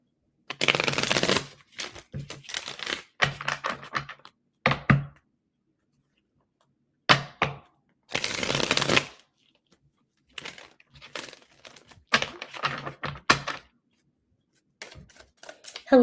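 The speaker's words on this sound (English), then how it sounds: "2 more shuffles for Cancer." A deck of cards is riffled and shuffled in several separate bursts, close and crisp, with pauses of silence between the shuffles.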